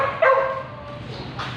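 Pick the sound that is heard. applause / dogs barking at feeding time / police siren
dogs barking at feeding time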